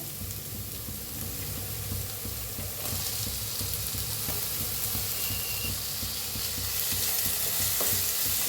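Onion fries in a pan while being stirred, a steady close sizzle with soft scraping and clinking strokes throughout and the hiss brightening partway through, no voices.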